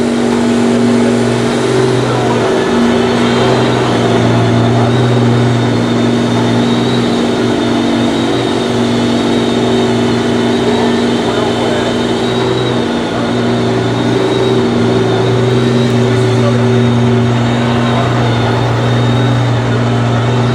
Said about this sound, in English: Alright, looks like the Valkyrie is out first.